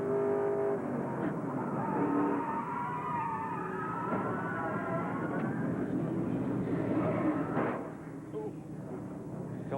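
Stock race car engine accelerating back on the throttle during a 1996 Busch Series race at Meridian, a loud roaring drone with rising engine tones, accompanied by other cars, fading slightly toward the end.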